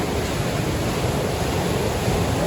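Water rushes steadily at the wheel of a thousand-year-old mill house, a constant broadband roar that stays loud and close throughout with no breaks and no voices.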